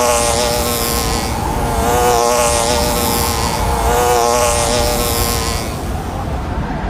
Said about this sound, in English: Does anyone else hear buzzing?